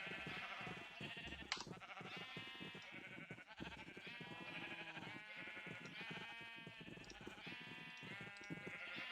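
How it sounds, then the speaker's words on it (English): Many sheep in Minecraft bleat over and over in an overlapping, continuous chorus, quiet and steady with no talk over it. "that's a boatload of sheep and cows"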